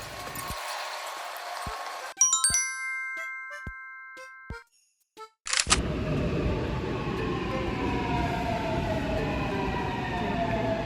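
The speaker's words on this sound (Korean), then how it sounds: "이렇게 지하철이 왔습니다." A Seoul subway train arriving at an underground platform: a chime and announcement tones ring out, then the train rumbles in loudly with a rising rush and steady rolling roar filling the station.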